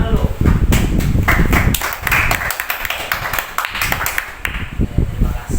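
A classroom of students claps hands together in a burst of applause lasting a couple of seconds, then fades into quieter taps and murmuring, with a teacher's voice speaking over and after the clapping.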